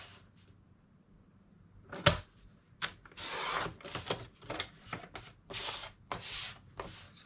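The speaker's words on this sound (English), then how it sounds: "So I'm just trimming to 3 5/8 by 5 3/4." Paper card stock cut down to pocket-card size on a paper trimmer, with a string of short scraping and slicing strokes that come in quick bursts after a quiet start.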